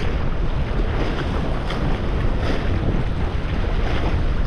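Strong wind buffets the microphone on New Year's Day while fishing, roaring loud and continuous with low rumbling gusts and a faint wash of water beneath.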